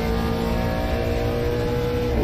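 A stock car in a NASCAR Pinty's Series race downshifting into a turn, a loud, dense engine drone with stacked harmonic tones over a rumbling low end, steady and close throughout.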